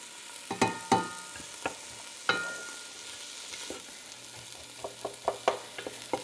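Onions cook down in a pot for beef stew, sizzling softly with a spoon stirring and scraping in scattered clicks and knocks, close by and fairly quiet, with no voices.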